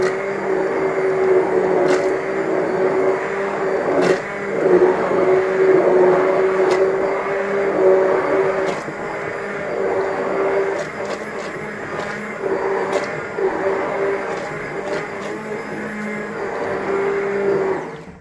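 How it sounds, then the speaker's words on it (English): Kitchen blender churning mushroom soup, a loud continuous motor whine with a straining, uneven load and occasional sharp clicks, running unbroken throughout. "So the blender's struggling, so we know that it's going to need more water"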